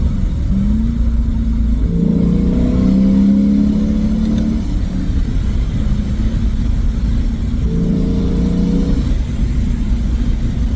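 A car engine with a non-resonated Apex'i exhaust revs loudly and close, pitch sweeping up and then dropping as it downshifts, with a second rev burst a few seconds later.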